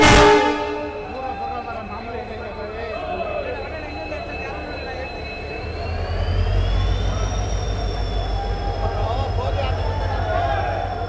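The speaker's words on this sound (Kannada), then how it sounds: "ಬಟ್ ಆ ಟ್ರೈನ್ ಅರೈವಲ್ ಅಂತೂ ನಿಮಗೆ ಕಾಣುತ್ತೆ." Inaugural Chikkamagaluru to Tirupati special train arriving at Chikkamagaluru station, a loud sustained rumble with tonal whine and a deep engine drone swelling midway as the train draws in close.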